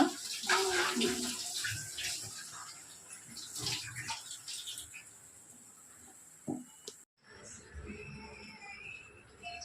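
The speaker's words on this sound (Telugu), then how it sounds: "వాటర్ పెట్టావా బాటిల్లో" Tap water runs and splashes steadily into a bottle, fairly quiet, with a brief pause near the end before the flow resumes.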